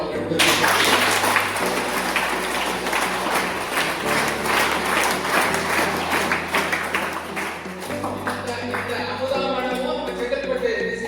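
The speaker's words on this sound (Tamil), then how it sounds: "கைத்தட்டு" Audience applause fills a school awareness talk for students, sustained dense clapping from a large crowd lasting several seconds, with steady low hum beneath and no speech over it.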